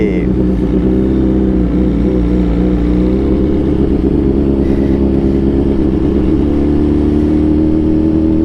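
A BMW S1000RR motorcycle engine running and revving, a loud continuous mid-pitched drone that rises in pitch, close by, with voices talking over it.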